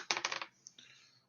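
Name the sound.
dice being rolled on table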